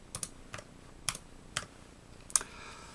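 Keys clack on a computer keyboard at a close, quiet desk, five or six crisp taps spaced unevenly over a few seconds, with faint room hiss between.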